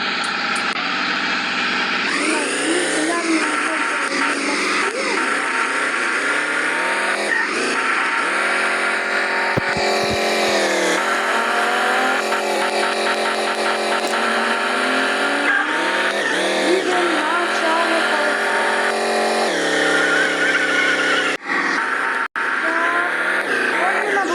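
Video game car engine revving and tires skidding, loud and continuous with shifting pitch throughout, the vehicle flipping over at one point.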